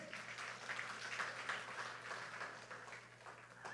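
A church congregation applauding during a sermon, a sustained, moderately quiet wash of clapping from many hands that swells slightly and then eases, with a faint voice mixed in.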